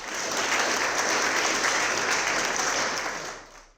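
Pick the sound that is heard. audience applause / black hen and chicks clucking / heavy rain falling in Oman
audience applause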